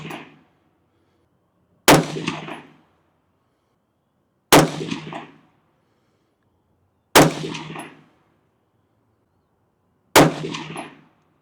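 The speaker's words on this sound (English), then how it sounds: "let's shoot our second 5-shot group" Five sharp rifle shots at a target ring out one at a time, evenly spaced a few seconds apart, each a loud crack with a short ringing tail and silence between.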